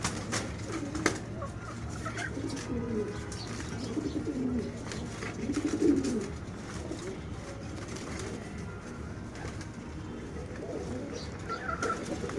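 Pigeons coo softly and repeatedly in low, throaty tones over a steady background hum, with a brief flutter of wings near the start.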